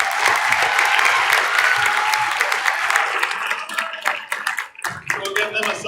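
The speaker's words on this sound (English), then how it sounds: "One more round of applause for them." An audience at a high school winter band concert applauds a percussion ensemble, loud and steady clapping for about six seconds that grows more scattered and uneven toward the end.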